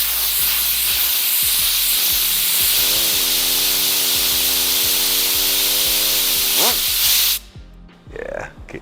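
A compressor-driven cooler box blows a loud, steady hiss of air over a slot car for about seven seconds, with a brief engine rev rising underneath partway through, then the airflow cuts off abruptly into quieter handling noises.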